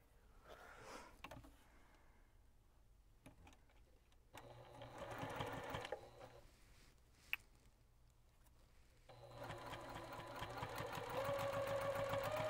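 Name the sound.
sewing machine stitching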